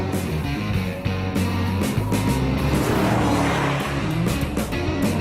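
Chevrolet Camaro SS driven hard into a corner on a track, its loud V8 roaring steadily with tire squeal and shifting engine note, close and continuous with no talking.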